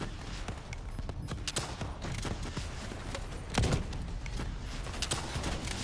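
Rapid gunfire in the Call of Duty Black Ops 3 campaign mission Rise and Fall, a steady stream of sharp shots with one heavier thumping blast partway through, loud and continuous over a busy game soundscape.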